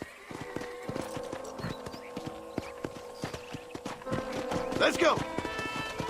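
Horse hooves clip-clop in a steady rhythm in the Western video game Red Dead Redemption, close and moderately loud, with someone speaking over them and a short whinny-like rise near the end.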